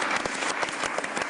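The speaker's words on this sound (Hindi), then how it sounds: "साहबजादा फरहान के लिए बहरहाल मैं एक जोरदार तालियां" Dense studio audience applause on a T20 World Cup cricket talk show, a steady burst of many hands clapping close and loud, with no voices over it.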